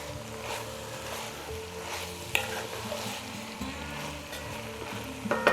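Sliced celery stalks are stirred into a sizzling pot for a kale and sausage soup, giving a continuous close frying hiss with soft scraping stir strokes and a few sharper clinks near the end.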